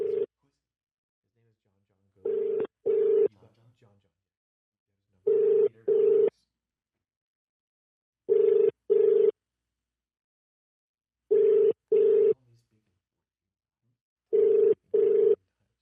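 A phone call being placed rings out with a repeating double ringing tone: six evenly spaced pairs of short rings, each pair about three seconds apart, clear and steady with silence between them.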